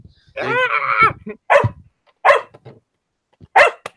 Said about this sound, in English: No, that was Forrest's dog